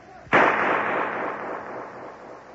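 A single sharp gunshot in an old-time radio crime drama, loud and close, with a long reverberant roar trailing off over two seconds.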